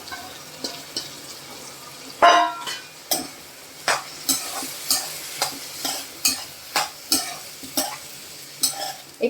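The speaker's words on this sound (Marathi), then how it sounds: "त्यात आता आपण हे धुवून ठेवलेले वाल ते आपण छान परतून घेऊया" Washed val beans and tomato sautéing in a pan: a steady close sizzle broken by regular, crisp spatula scrapes and clacks roughly every half second, with no voices.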